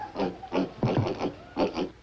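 Pigs on a rural farm grunting and oinking in several short bursts over about two seconds, fairly close and loud, with no talk over them.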